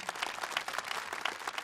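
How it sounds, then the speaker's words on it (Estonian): Concert audience applauding a mixed choir and military orchestra, a short burst of dense, distant-sounding clapping from a large crowd in a hall. "No tervitame neid suure aplausiga."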